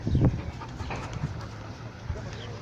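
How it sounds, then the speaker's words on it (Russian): A dog pants in quick, breathy puffs amid the 2019 floodwaters in Tulun, close by and fairly soft, with a brief whimpery snuffle at the start. "Собака не может дом найти."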